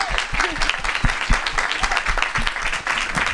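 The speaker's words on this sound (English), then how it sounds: "I want all of us to give a warm round of applause to Lauren Sarand" Audience applause fills a bookstore panel event at McNally Jackson, a dense crowd clapping steadily throughout with faint voices mixed beneath it.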